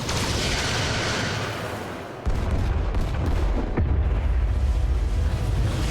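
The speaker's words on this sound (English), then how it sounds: "Firing torpedoes." Torpedoes fire in the Star Trek: Resurgence video game, heard as loud sustained booming blasts with a sharp onset partway through and a second burst after it, with no talking.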